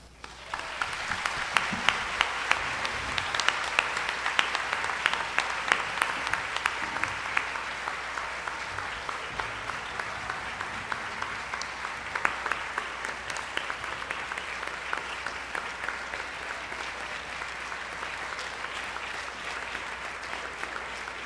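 An audience at a round-table gathering applauds warmly, a dense, continuous clatter of many hands clapping that holds steady for about twenty seconds without easing.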